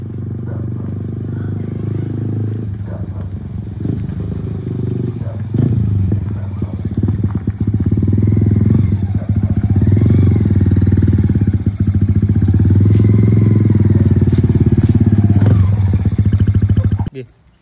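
A motorcycle fitted with an Akrapovic 51mm exhaust pipe runs loud and close, a deep steady engine rumble that swells into sustained revving through the middle and end before cutting off sharply, with voices talking underneath.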